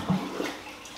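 Hollow aquarium decor logs filling with water as they sink in a tank, making a brief gurgling, bubbling splash that fades quickly, close and alone.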